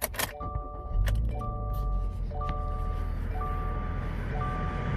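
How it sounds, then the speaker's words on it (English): A 2020 Subaru Crosstrek Premium restarting: a sharp ignition burst and rising engine rumble settle into a steady idle, with a series of evenly spaced electronic chimes repeating about once a second over the low hum. "start it back up again,"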